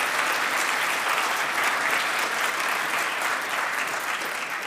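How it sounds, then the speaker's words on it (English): Sustained crowd applause at a closing ceremony in Riga, Latvia, honoring competition winners, an even, continuous wash of many hands clapping at moderate distance without pause. "applause"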